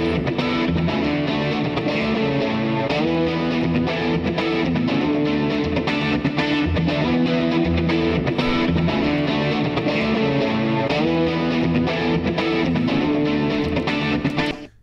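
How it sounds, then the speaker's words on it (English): Distorted rhythm guitar with delay repeats, passed through a compressor set to a fast release, plays continuously and loud, the echoes swelling between chords for about fifteen seconds. "You're hearing the rhythm of the guitar, the movement of those delays."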